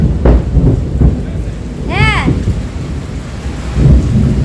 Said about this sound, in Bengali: কাজের সময় এরকম করে বৃষ্টি আসলে না একদম ভালো লাগে না